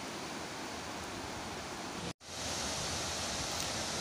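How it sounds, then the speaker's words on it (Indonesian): A river flowing below a bridge near Tirtasari waterfall in Ngancar village, Magetan, a steady broadband rushing wash that briefly cuts out once, then resumes at the same level. "Di bawah saya ini tuh terdapat jembatan dan itu ada sungai. Sungai ini kayaknya berasal dari air terjun Tirtasari."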